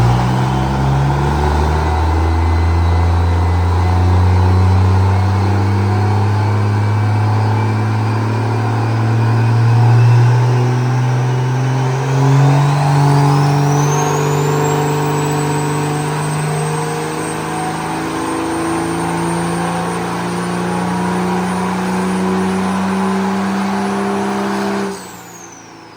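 Cummins diesel burnout truck engine revving loud and close for about 25 seconds, a deep steady roar with rising and falling pitch and a long climbing whine midway, cutting off sharply at the end.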